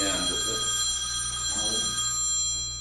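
A mobile phone rings during an oral history interview, a steady electronic ringtone running continuously under murmured talk and room noise.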